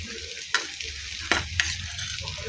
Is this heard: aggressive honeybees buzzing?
no